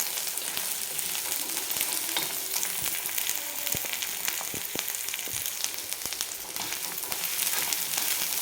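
Masala sautéing in a pan for chicken curry, a steady, even sizzle and fry that runs the whole time with a few light clicks of stirring, no voices.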